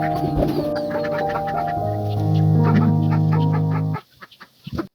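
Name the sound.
ducks quacking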